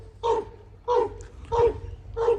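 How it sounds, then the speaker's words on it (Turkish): A Turkish shepherd dog barks four times in an evenly spaced series, loud and close, over a low background rumble. "köpek bağırdığı için belki sesim tam anlaşılmayabilir"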